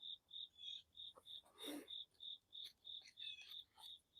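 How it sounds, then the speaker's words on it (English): Crickets chirp in early morning darkness, with a steady, evenly spaced series of high, soft pulses about twice a second and a brief rustling noise partway through. "the crickets replaced the birds"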